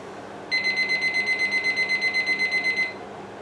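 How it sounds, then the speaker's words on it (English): A kitchen timer beeps in a rapid, even pulsing pattern for about two seconds, close and clear, then stops, with faint room noise around it. "Set my timer."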